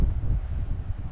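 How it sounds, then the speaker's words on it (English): Blustery westerly wind buffets an exposed spot at a remote wild camping location in Northumberland, a steady, loud, low rumble of gusts against the microphone, with no voices. "westerly, as you can tell now, it's quite blustery"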